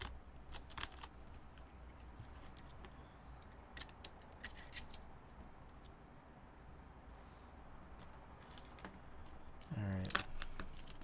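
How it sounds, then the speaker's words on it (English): Keycaps are pried off a Duck Eagle v1 HHKB-layout mechanical keyboard with Alps switches, giving sparse, sharp plastic clicks and snaps close up, a few early on and a louder cluster near the end, over quiet room tone. "We are going to have to end up pulling off some keycaps just so we can access the screw positions."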